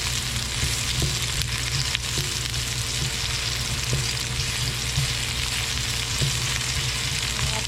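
Onions frying in a little hot oil in a pan, a dense loud continuous sizzle with occasional light taps, no voices.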